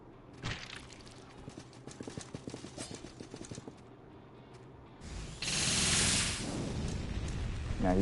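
Horse enemy in the dark fantasy game Salt and Sanctuary, a quick run of hoof-like clip-clop hits followed by a loud burst of spraying, roaring game effects.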